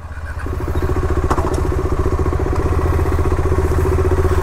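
A KTM 390 Adventure motorcycle ridden from Mumbai toward Alibag, its single-cylinder engine rising into a loud, close, steady pulsing drone that holds throughout with faint wind rush.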